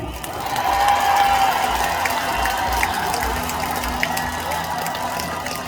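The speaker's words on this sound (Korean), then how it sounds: "여러분 박동식 시장님과 우리 가수님에게 큰 박수 부탁드립니다." Crowd applause for a city mayor and a singer at an outdoor street-naming ceremony, steady broadband clapping that swells early then holds at moderate level, with faint speech and music underneath.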